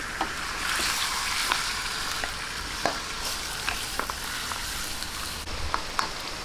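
Pork hock sizzles steadily in a pan after soy sauce goes in, a close, continuous frying hiss broken by occasional clicks and stirring scrapes, with no talk.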